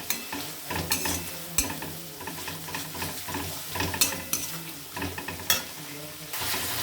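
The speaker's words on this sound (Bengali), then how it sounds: "এবার ভালো করে এটা কষতে হবে।" Fish curry masala with green chilli paste and Kashmiri chilli powder sautéed in a pan, a steady sizzle broken by rhythmic stirring scrapes and knocks of the spatula, close and fairly loud.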